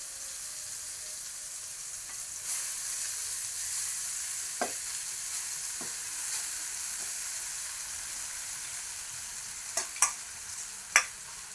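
Chicken chow mein is stir-fried in a pan with a soft, steady sizzle and a few sharp spatula clinks near the end, quiet and without talk.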